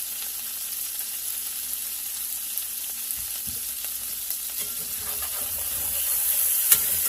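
Cubed potatoes fry in a pan for a vegetable fried soup, a steady close sizzle with small pops and crackles, growing slightly busier toward the end, and no talk.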